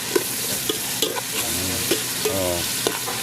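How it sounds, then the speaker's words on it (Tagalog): Sliced onion, garlic and ginger being stir-fried in a pan for chicken tinola, a steady sizzle under repeated scraping stirs of a utensil against the pan, close and clear with no talking. "Ang ating ginigisang sibuyas,"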